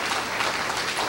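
Brief, fairly quiet congregation applause during a church service, a steady wash of clapping lasting about a second.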